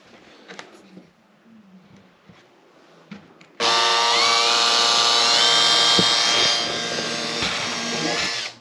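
A power drill bores into an ATV during a light bar install, starting abruptly after quiet handling noises and running loud and steady at close range for about five seconds.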